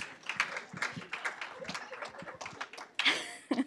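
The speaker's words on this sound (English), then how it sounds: "Let's give them a round of applause." A small group at a metrics conference gives the winning team a light round of applause, with sparse, scattered claps that stay faint and uneven and end in a couple of sharper claps.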